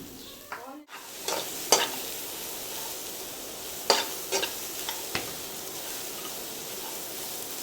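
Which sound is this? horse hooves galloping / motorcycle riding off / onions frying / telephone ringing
onions frying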